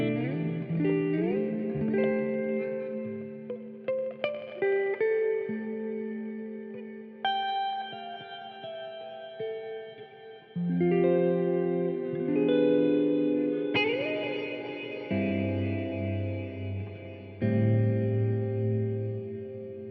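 Guitar through a Meris Polymoon modulated delay pedal swells into a lush ambient wash, sustained chords smearing into shimmering echoes and shifting pitch bends, with no talking.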